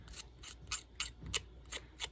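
Large scissors snip through paper embellishments for a craft project, giving about eight crisp, evenly spaced cuts close to the ear against a quiet room.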